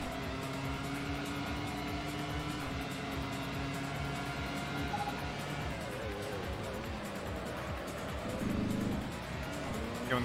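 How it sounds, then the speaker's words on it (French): Ferrari Formula One cars accelerating in the PS2 racing game Grand Prix Challenge, a steady high-pitched engine whine with rising tones running continuously at moderate volume and no talk. "Elle accélère vraiment vraiment fort les Ferrari, c'est impressionnant."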